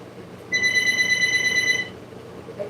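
A telephone rings once in a bright, steady electronic trill lasting over a second, fairly close, over a low background murmur.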